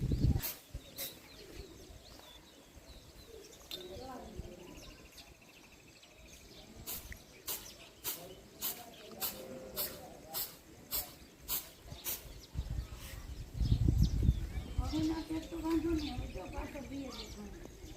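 Small birds chirp and call outdoors as rain clouds gather, a faint scatter of sharp repeated chirps in an even series, with a voice talking under them and a louder rumbling burst toward the end.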